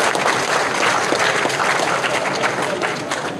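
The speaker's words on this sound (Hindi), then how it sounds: "जोरदार तालियां बजाएं" A crowd at a protest rally gives loud, dense applause that fills the moment and then fades slightly toward the end.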